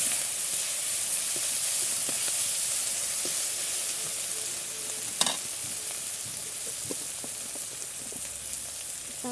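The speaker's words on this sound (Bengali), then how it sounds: "তারপরে দিয়ে দেব একটু লবণ, দিয়ে হালকা লাড়াচাড়া দিব যাতে আদা কাঁচা ফ্লেভারটা" Ginger with salt fries in a pan, giving a steady, bright sizzle throughout while a utensil stirs it. Soft scraping ticks run through the sizzle, with one sharper clack near the middle.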